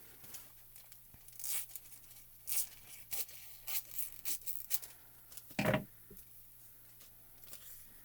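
Iridescent craft foil is torn and handled beside blue cardstock, giving quiet, close crinkling and ripping in short separate bursts, with one sharper tear near the end and soft pauses between.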